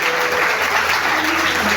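Steady applause from a congregation at a church service, dense clapping that fills the whole moment without pause.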